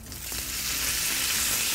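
Bacon fries in a pan with a loud, steady sizzle, a dense hiss of spitting fat that holds unbroken and close throughout.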